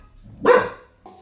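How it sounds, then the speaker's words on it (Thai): A single loud dog bark close by, short and sharp, followed by a faint second yelp. "หมาเห่านะครับ หมาเห่า"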